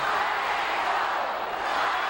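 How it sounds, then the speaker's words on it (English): A wrestling arena crowd chants in support of the Rock and Roll Express, making a dense, steady wash of voices at moderate volume with no distinct rhythm coming through. "the crowd chanting rock and roll, getting behind the Rock and Roll Express"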